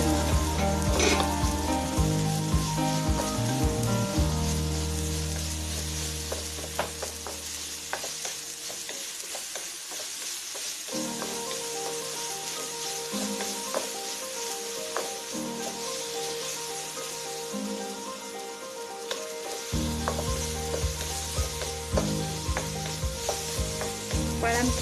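Fruit sautés in a frying pan for a bread sweet roll, a steady crisp sizzle with occasional stirring scrapes, running under continuous background music throughout.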